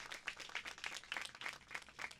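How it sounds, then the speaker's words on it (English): A crowd at a ribbon cutting for Robbins Heritage Park and Midlothian Creek gives a brief, fairly faint round of scattered clapping lasting about two seconds. "Can we give her a round of applause?"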